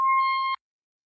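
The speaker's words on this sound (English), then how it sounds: "They're testing the fire alarm in my building." A single steady electronic beep from a building fire alarm test, about half a second, fairly faint, then silence.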